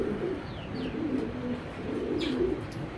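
Racer pigeons in a cage coo in soft, low, repeated rolling calls, with a few faint chirps mixed in, all heard close by against quiet room background.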